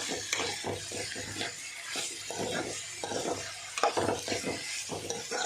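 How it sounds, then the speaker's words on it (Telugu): Ridge gourd curry stirred in a pan, the utensil scraping in a steady back-and-forth rhythm over a soft sizzle, close and moderately loud. "చక్కగా కలుపుకుందాం."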